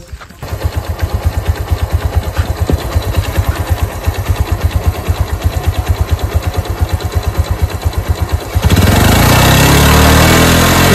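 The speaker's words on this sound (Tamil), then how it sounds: "ஸோ பைக் ஸ்டார்ட் பண்ணி ஒன்ஸ் வந்து செக் பண்ணிடுவோம்." A Bajaj CT100 motorcycle engine, old model, runs with a steady rapid thumping idle, then revs up louder and rougher near the end; no talking over it.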